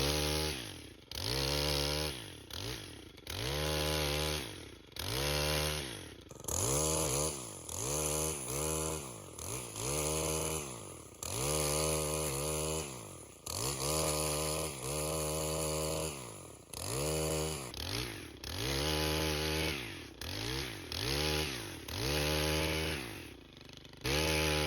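A gas-powered pole saw cuts through white oak sprouts, its two-stroke engine droning loudly and rising and falling in steady repeated revving cycles as it bites into the wood, with no talking.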